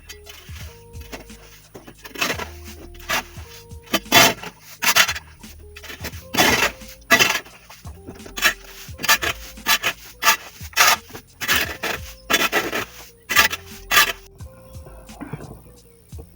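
Sawdust and droppings being scraped and brushed off a poultry house floor, a series of short rough scraping strokes in irregular bursts, close and fairly loud, with no talking.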